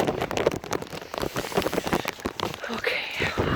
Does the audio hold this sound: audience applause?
no